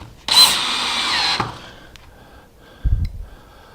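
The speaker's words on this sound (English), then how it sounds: "Clamp it into position and put in the pocket screws." A power drill drives pocket screws into a wooden face frame for a center rail, one loud steady whir lasting about a second, then a brief low knock as it stops, close by with no talking.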